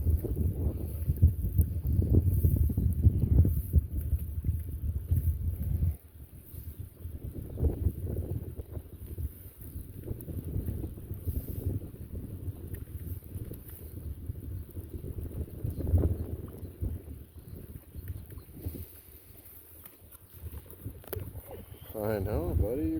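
A small boat motors across a lake, rumbling engine and wind buffeting the microphone, loud at first then steadier, with voices talking over it.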